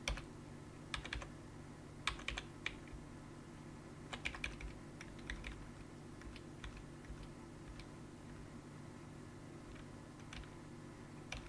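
Typing a Linux command on a computer keyboard, sparse clusters of quiet key clicks in short bursts over a low steady hum, with no talk.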